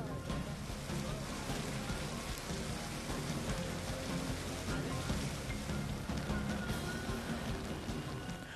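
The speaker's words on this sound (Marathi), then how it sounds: "पुण्यामध्ये पावसाने आज पुन्हा एकदा दमदार हजेरी लावली" Heavy rain falls over Pune, a constant, even roar of drops on surfaces that stays steady throughout at a moderate level.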